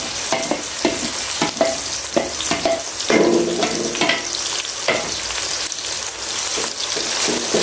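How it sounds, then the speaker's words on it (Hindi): Onions for chicken biryani dropped into hot oil, loud crackling sizzle with a sharp burst as they go in, followed by clinks and scrapes of a spoon stirring amid steady frying noise. "तो तेल हमारा गर्म हो चुका है। तो अभी मैं इसमें डाल रही हूँ प्याज।"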